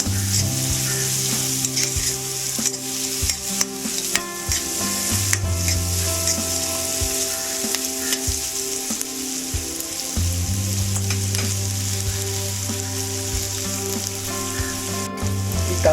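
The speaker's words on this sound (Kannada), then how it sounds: "ಸ್ವಲ್ಪ ಉಳ್ಳಾಗಡ್ಡಿ ಕೆಂಪಾಗುತ್ತಾನ ತಾಳ್ಸೋಣಂತೆ." Onions sizzle and fry in a pan for a girmitt snack, a steady close crackling hiss running throughout with occasional stirring scrapes and no talk over it.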